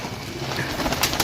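Pigeons coo softly and repeatedly, close by, with a rustle of wings and faint background noise.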